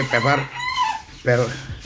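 Young chickens being brooded cluck close by in two short bursts of harmonic, rising calls separated by a brief pause.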